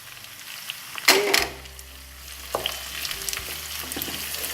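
Red and green peppers and parsley go into a hot pan and sizzle, with a burst of frying hiss as they land, then stirring noises and a steady low crackle.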